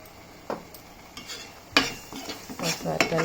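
A spoon stirs mushroom masala curry in a pan, with several distinct scraping clanks against the metal over a soft background sizzle, growing busier toward the end.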